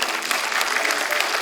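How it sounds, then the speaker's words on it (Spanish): Audience applause at a live huayno music performance, a dense steady burst of clapping from a crowd, loud and close. "Los aplausos para ustedes,"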